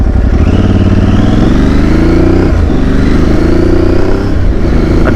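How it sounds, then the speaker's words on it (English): A Yamaha Tenere-style Tuareg 600 motorcycle engine is heard while riding, a loud close engine drone with a rising pitch as it accelerates, a brief dip as it shifts, then more revving, alone without voices. "my first time riding this bike to work."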